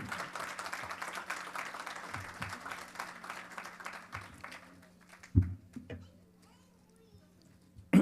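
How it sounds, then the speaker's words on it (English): An audience at a Mahavir Janma Kalyanak community gathering claps for the past committee, steady indoor applause that fades after about five seconds, followed by a few scattered claps and thumps. "So give big applause for them, the past committee."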